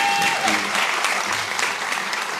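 An audience at the Tasmania Australian of the Year Awards ceremony gives Rick a sustained round of applause, dense steady clapping from a crowd filling the hall throughout.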